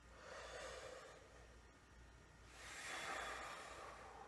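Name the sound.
relaxed deep breath in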